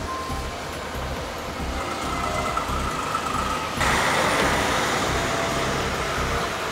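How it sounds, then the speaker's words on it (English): Fire trucks rolling along a road cleared of debris by payloaders at the Bruce A nuclear station, a steady low engine and tyre rumble that swells louder partway through as a vehicle draws closer, with no talk. "The fire trucks can now pass through and get to the station to cool the fuel."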